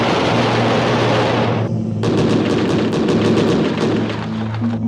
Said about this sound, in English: The powerful 6-barrel cannon deserves a separate attention.